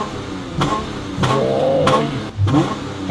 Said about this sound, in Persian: خب حالا بریم برای این تست صدای اگزوزش.